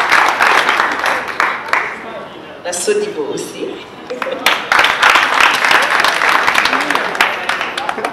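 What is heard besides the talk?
audience applauding the sponsors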